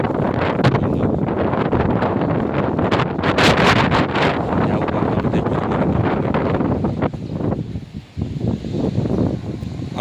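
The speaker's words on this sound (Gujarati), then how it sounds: "અમારા ગામનું આવું વાતાવરણ છે ચૈત્ર મહિનાનો દિવસ પવન વાવાઝોડા સાથે ખરો" Strong windstorm wind roars and buffets the microphone continuously, gusting in heavy rushes with rustling underneath, loud throughout, in a village.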